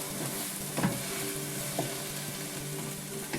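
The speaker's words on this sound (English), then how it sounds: "Scrape all that stuff off the bottom." A utensil scrapes browned bits off the bottom of a non-stick pan under a steady frying sizzle for a sweet potato and kale tagine, with two or three distinct scrapes standing out close by.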